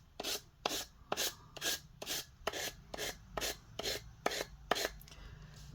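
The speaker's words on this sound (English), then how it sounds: "So just brushing downwards with the sandpaper" Sandpaper rasps down the napkin decoupage edge of a wooden heart in about eleven quick, evenly spaced strokes, each a close, crisp scratchy swipe with brief pauses between.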